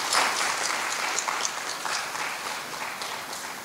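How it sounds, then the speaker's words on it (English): An audience at an inter-high school integrity debate day in the Turks and Caicos Islands claps for the Integrity Commission, steady dense applause filling the whole stretch with no talk. "I think it's only fair that the Integrity Commission deserves a well-deserved round of applause as"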